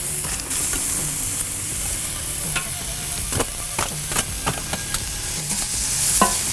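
Onions sizzling on a hot plancha griddle for cheesesteaks, a steady frying hiss punctuated by repeated scraping and tapping of a spatula stirring them, close and clear with no talk.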